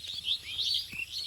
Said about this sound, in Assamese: এই শাৰী শাৰী কি চৰাই এইবিলাক শালিকা